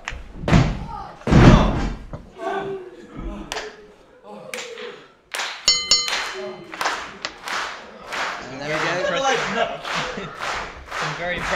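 Heavy thuds of a tag team's double elbow drop hitting the wrestling ring mat at a televised NCWA match, several loud slams ringing out amid crowd noise and commentary.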